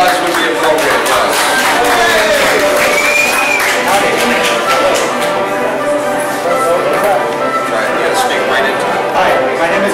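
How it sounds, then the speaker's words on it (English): A lounge crowd claps and cheers for a neighborhood association founder, loud and continuous, with whoops and hollers sliding over the clapping and general crowd noise throughout. "A little bit of applause would be appropriate"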